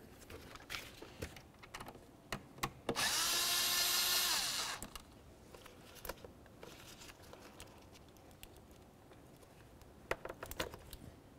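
An air intake being removed from a Ford Fusion engine (2006–12 model) during a spark plug job, with scattered close plastic clicks and rattles. One steady, whirring mechanical burst lasts about a second and a half.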